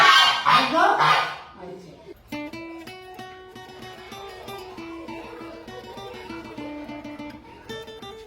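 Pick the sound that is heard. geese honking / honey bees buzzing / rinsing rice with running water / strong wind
geese honking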